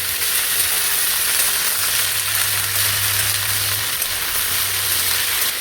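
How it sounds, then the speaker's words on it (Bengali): Vegetables with peas and onion fry in a wok, giving a steady, close sizzle with a low hum beneath it and no voices. "কড়াইতে দেখো সব সবজির যেন ব্লাস্ট হচ্ছে"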